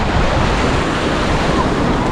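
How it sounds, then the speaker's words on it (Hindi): Waves breaking on the beach at Empuriabrava on the Costa Brava in Spain, a constant loud wash of surf mixed with wind buffeting the microphone. "ये है डीप समंदर के अंदर इस साइड में"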